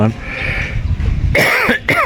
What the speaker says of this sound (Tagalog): sinsya na po kayo mga tolits sa aking ubo